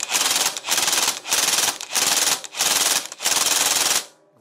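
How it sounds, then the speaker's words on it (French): A pneumatic impact wrench tightens a nut on a Kawasaki GTR1400 motorcycle in five loud, rattling bursts of about half a second each, separated by brief pauses, then stops. "là je suis serré à la clé à choc à 200 Newton"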